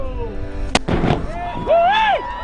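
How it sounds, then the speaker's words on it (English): A sharp, loud blast cracks out from a replica cannon aboard a Key West pirate-style ship, followed by a rumbling boom and a shout or cheer afterward. "we fire that cannon every night"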